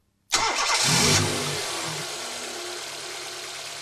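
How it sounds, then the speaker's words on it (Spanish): A car engine cranks and catches abruptly during a fuel pressure test, flares briefly, then settles into a steady, close idle that continues on its own. "Y luego arranque el motor."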